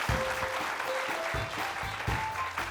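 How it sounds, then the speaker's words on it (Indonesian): A studio audience on a TV comedy show claps for Rocky, steady crowd applause with a few low thumps and faint tonal sounds mixed in. "Tepuk tangan untuk Rocky."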